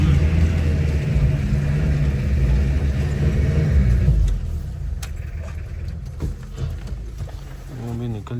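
A jeep stuck in mud on a snowy mountain route revs hard with spinning tyres, a loud, rough engine roar that drops off midway into quieter rumbling and scattered knocks, with people talking.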